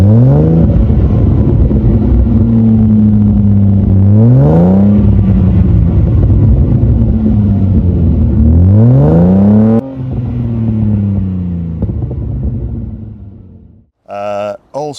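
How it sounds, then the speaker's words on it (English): Unique Aston Martin DB7 with a sports exhaust, engine droning loud and close as the revs rise and fall in repeated sweeping climbs, before it drops off and a voice speaks briefly at the end. "the sports exhaust, which really gives it a right noise"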